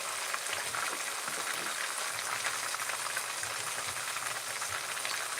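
Red snapper frying in oil in a pot, a steady dense sizzle and crackle holding at an even, fairly loud level throughout with no talking.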